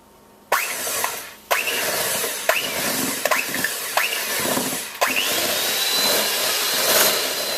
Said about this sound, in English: Get an electric mixer if you've got one and just start mixing until this is creamy.